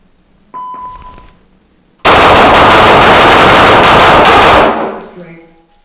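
A SAR 9C pistol fired at steel targets: a single ringing metallic ping, then a loud, dense string of rapid shots lasting a few seconds before a reverberant fade.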